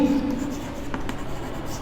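A pen scratches briefly across paper during an accountancy lesson, soft short strokes heard close under a quiet background.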